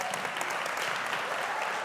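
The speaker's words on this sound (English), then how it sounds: "a warm round of applause." Dense, steady audience applause fills an awards ceremony hall, a continuous wash of many hands clapping at close range with no gaps.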